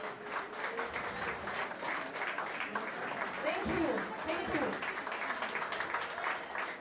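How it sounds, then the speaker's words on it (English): A room full of men keeps up sustained applause for the ladies present, many hands clapping steadily while a voice says thanks over the clapping. "If you know you're a man, please clap for all ladies in this room"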